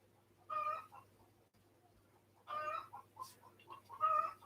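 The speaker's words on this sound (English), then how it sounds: "I don't know if you can hear my chooks in the background." Backyard chickens cluck in the background, one of them laying an egg, in three loud clucking bursts with quiet gaps between them, heard alone in a quiet room.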